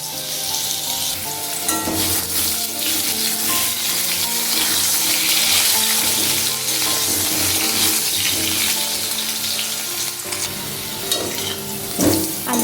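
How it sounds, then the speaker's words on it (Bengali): Potatoes frying in hot oil, a loud, dense, continuous sizzle close up, with occasional stirring clatter and no talking. "আলুগুলো লাল করে ভেজে তুলে রাখছি।"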